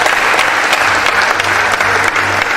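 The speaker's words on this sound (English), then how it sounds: "Does the provost not deserve another round of applause?" Sustained applause from a crowd at a college of medicine scientific conference closing ceremony, a dense steady clatter of clapping hands throughout.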